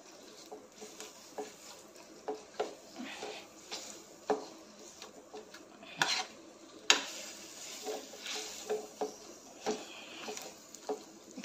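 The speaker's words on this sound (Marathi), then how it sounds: "हे चांगलं परतून घेऊया तुपामध्ये" Chopped dates and figs stirred and roasted in ghee in a pan, with repeated scraping and clinking strokes of a spatula against the pan over a faint, steady sizzle, close and moderately quiet, no talking.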